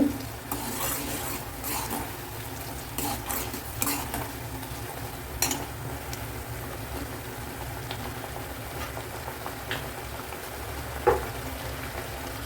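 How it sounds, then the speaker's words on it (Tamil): Steady bubbling and faint sizzling of sugar syrup boiling in a pan, with occasional clinks of a utensil against metal. "இப்போ நல்லா கொதிக்குது"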